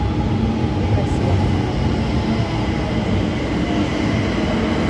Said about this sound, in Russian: Вот и мое метро.